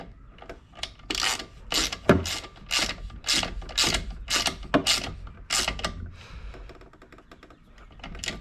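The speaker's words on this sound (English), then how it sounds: "Now we'll get all of these bolts to the tightness they need to be." A ratchet wrench clicks in quick, uneven bursts while bolts are snugged on the engine of a Honda HRN216 lawn mower during a valve adjustment, close and fairly quiet, easing off toward the end.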